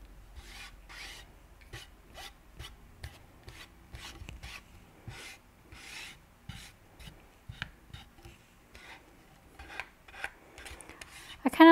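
Paint is rubbed by hand onto a wooden stencil board in repeated short scratchy strokes, a quiet rasping rhythm of brushing and scrubbing sounds close up with brief pauses between passes.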